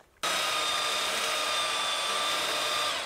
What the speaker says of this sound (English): It's a little fuzzy from the belt sander because it's a really coarse grit